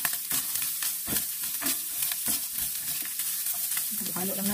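Ground chicken and beans fry in a pan with a steady sizzle, broken by repeated scraping strokes of a spatula stirring the mixture, close and fairly loud.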